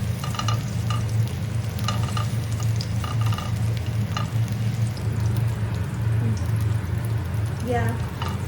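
Garlic sizzles and fries in hot oil, a steady crackling hiss close by with periodic clicks of stirring and a low hum underneath, while a voice speaks briefly.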